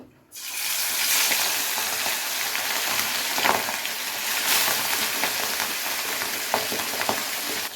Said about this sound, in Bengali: এবারে তেলের মধ্যে এক এক করে মাছগুলোকে দিয়ে ভেজে নেব।